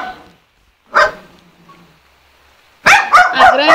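Dogs bark close by: one sharp bark, then a pause, then a quick burst of several loud barks in a row, with a softer sound fading out at the start.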